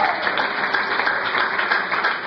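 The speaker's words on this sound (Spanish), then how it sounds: "Dale un aplauso a Cristo por eso." Brief burst of congregation applause in a church, dense steady clapping at close, even loudness throughout.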